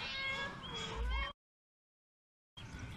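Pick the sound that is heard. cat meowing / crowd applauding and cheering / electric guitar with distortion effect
cat meowing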